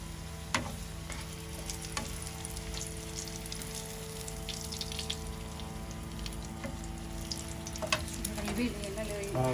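Hilsa fish and pointed gourd frying in oil, a steady close crackling sizzle with a few sharper pops and spatters throughout, no voices.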